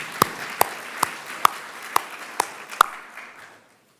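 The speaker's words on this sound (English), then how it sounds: "Let's give her another round of applause" A handful of sparse, sharp claps ring out one by one at a Master of Nursing hooding ceremony, about seven distinct hits at a steady pace before fading to quiet.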